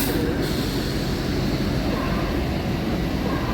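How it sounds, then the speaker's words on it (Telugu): Nizamabad–Kacheguda DEMU train arriving at a station, a steady loud rumble of rolling wheels and diesel-electric motors filling the whole stretch without pause. "నిజామాబాద్ కాచిగూడ డెమో వచ్చిందండి."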